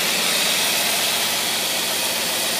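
A carbureted engine fitted with a Carter AFB 9510 carburetor runs in gear under load, giving a loud, steady, rough roar with no speech.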